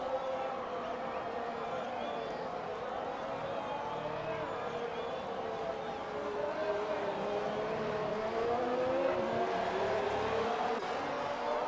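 A race car engine whines steadily on a flying lap in a realistic sim racing game at a France round, its pitch rising and falling at moderate loudness beneath ongoing commentary voices.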